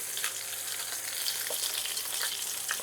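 About five large julienned onions sizzle steadily in a hot pan, a close, dense frying hiss with occasional stirring and no talking.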